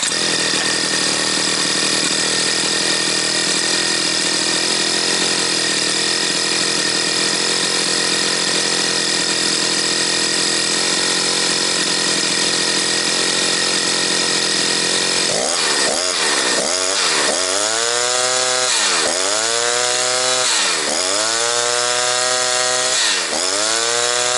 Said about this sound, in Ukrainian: Давайте подивимося, як воно заведеться горяче і значить пила готова до роботи.